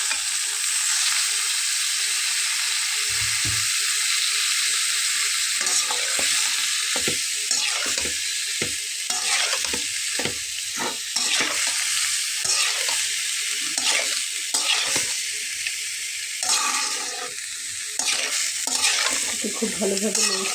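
Vegetables for a Bengali aloo sobji fry steadily in a hot pan, a continuous close sizzle broken by repeated scraping and stirring strokes, with no voices.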